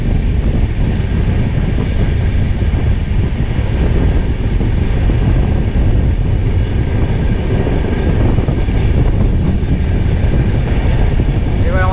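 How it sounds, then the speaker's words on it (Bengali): Purba Express passenger train (12304, Delhi to Howrah) running on rails through hilly country, a steady continuous rumble of wheels and carriage noise with wind buffeting the microphone throughout. "ট্রেন টানেলে ঢুকে যাবে, এই ঘাটিটা টপকানোর জন্য টানেল ক্রস করে ওর পাশে চলে যাবে"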